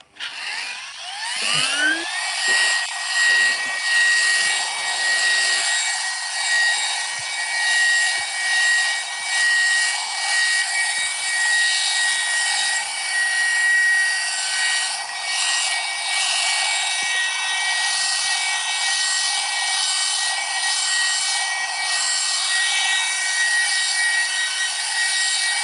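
A machine polisher working on a VW Beetle's paintwork whines as it spins up to a high, steady pitch, then runs loud and close with a continuous rough rubbing hum.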